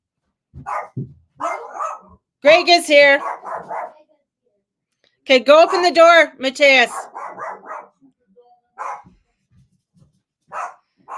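A dog barks excitedly at a visitor arriving at the door, the barks coming in loud bursts mixed with people talking nearby.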